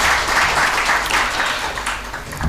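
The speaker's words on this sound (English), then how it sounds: "A huge round of applause for each of our speakers" Audience at a maritime regional summit panel applauds the speakers, a steady, fairly loud patter of many hands clapping that tapers slightly toward the end with no voices over it.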